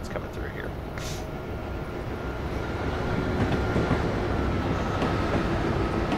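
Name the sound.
Amtrak trains passing, from video game Train Simulator 2014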